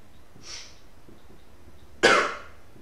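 Two dry coughs from a person sitting at a computer, a short soft one followed by a louder, sharper one about one and a half seconds later, close to the microphone in a quiet room.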